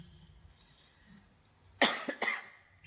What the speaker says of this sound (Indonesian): Penyakitnya batuk.